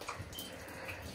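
Water from a leak pours steadily down through a house from the loft, a constant splashing, trickling wash with scattered drips, fairly close and continuous with no voices.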